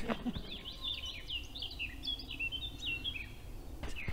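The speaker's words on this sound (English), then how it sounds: "you start to hear all the birds, don't you?" Several birds chirp and trill in quick, overlapping calls in woodland, fairly faint and distant, over a quiet outdoor background.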